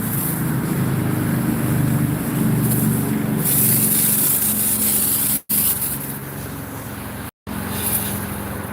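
Continuous hissing spray of liquid, loud and close, broken by two brief silent gaps before resuming.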